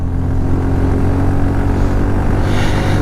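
The carburetor version of a 2,45,000-taka motorcycle drones with a steady, deep engine rumble, close and loud, a rough throbbing idle that lifts slightly near the end, with no talking.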